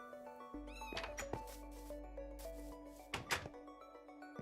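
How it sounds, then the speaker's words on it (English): A kitten meows in the video game Minecraft, with a few short tonal mews standing out over soft game music and a couple of brief thumps. "Oh, kitten."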